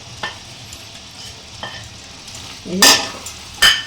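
Cabbage frying and being stirred in a pan with boiled fish head for a spicy curry, a soft low sizzle punctuated by spatula scrapes and two sharp metallic clanks near the end.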